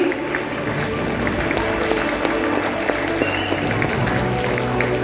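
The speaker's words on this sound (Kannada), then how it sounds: "ನಿಮ್ಮ ಚಪ್ಪಾಳೆ ಬರ್ತಾನೆ ಇರಲಿ" Steady applause from an audience at a school annual day teacher appreciation segment, continuous clapping at a fairly loud, even level over a low room hum.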